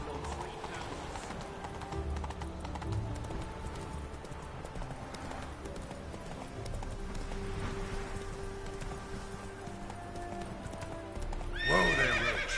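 Roach, Geralt's horse in The Witcher 3, gallops with a steady clip-clop of hooves under game music and voices, ending in a loud whinny near the close.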